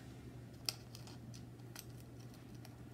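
Tiny scissors snip once through a planner sticker, a quiet close click followed by a faint second cut against a soft steady hum.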